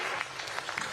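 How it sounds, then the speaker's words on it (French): Delegates at the COP 29 climate summit in Azerbaijan applaud a speech by Denis Sassou Nguesso, a brief, steady patter of many hands clapping at moderate distance. "cette salve d'applaudissements au discours de Denis Sassou Nguesso"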